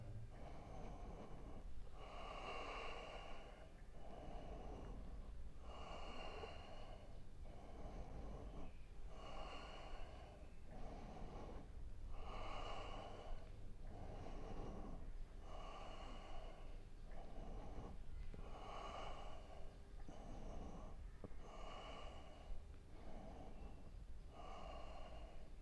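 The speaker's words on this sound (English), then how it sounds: "Exhale down. Inhale up." Strong yoga breathing in a Rishikesh-style energizing flow, steady cycles of forceful inhales and exhales repeating evenly and close, with no voice over them.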